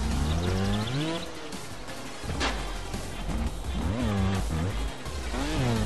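A motorcycle engine in the Trials Fusion video game revs and surges in rising and falling bursts, loud and close, with a sharp crash or skid partway through and game music underneath.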